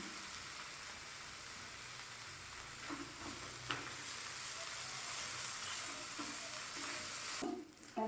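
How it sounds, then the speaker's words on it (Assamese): Suji snack mixture fries in a pan over a medium flame, a steady oily sizzle with a few faint scrapes and knocks of stirring, close and with no one talking. "আমি মিডিয়াম ফ্লেমত ভাজি লৈছোঁ।"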